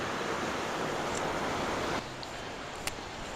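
River flowing near waterfalls, a broad, steady rush of water that fills the clip and drops slightly softer partway through, with a faint click near the end.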